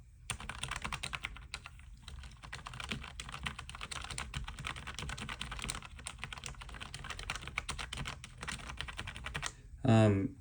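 Steady, fast typing on a Logitech MX Mechanical Mini keyboard with brown tactile switches, close and continuous, ending with a short low thump.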